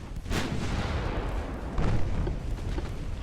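Naval gunfire booms during a battleship attack in the video game Ultimate Admiral Dreadnoughts, two heavy rumbling blasts a second and a half apart over continuous low battle noise.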